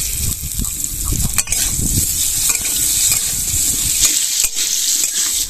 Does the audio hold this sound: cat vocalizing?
no